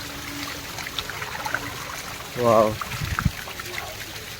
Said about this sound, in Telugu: వాటర్ ఫ్లో ఎంత బాగుంది.